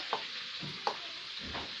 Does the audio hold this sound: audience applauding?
no